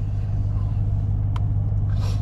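A Chevrolet Silverado pickup truck idles on a cold start, a loud, steady low engine rumble close by with a couple of brief clicks and a rustle near the end.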